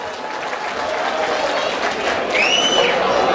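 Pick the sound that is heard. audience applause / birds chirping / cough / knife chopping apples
audience applause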